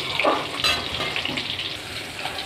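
Brief hissing sizzle of potatoes, onions and garlic frying in oil, fairly close, with a few soft clinks and stirring sounds.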